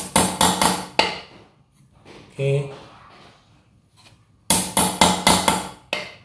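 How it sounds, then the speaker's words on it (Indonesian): Center punch struck with a hammer to mark drill points on a bicycle disc brake part, two quick bursts of four to five sharp metallic taps each, separated by a short spoken word and quiet. "Ini alat punch ya untuk menandai ya supaya nanti mata bornya tidak bergerak kemana-mana ya"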